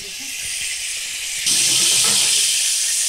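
Hot cooking oil sizzles in a pan, a steady, bright hiss that jumps louder partway through and keeps going, with a few faint voices in the background.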